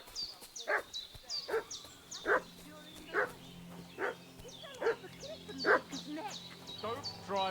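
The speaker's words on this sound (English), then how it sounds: "What's that dog making such a fuss about?" A dog barks repeatedly in Kingdom Come Deliverance II, about eight sharp, evenly spaced woofs with a whiny edge, fairly close over a quiet game soundscape.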